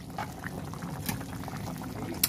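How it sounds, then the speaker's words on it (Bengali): Egg curry gravy bubbles on a wood-fired clay stove, with quiet, continuous bubbling and scattered soft pops, close by but faint. "দেখে কিন্তু টকবক টকবক করে ঝোল ফুটে যাচ্ছে"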